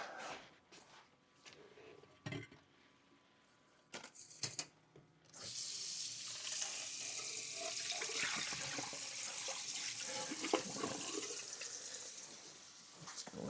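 Tap water running steadily while items are rinsed under it, a soft continuous hiss that starts after several seconds of scattered clatter and handling noises, fairly quiet and close.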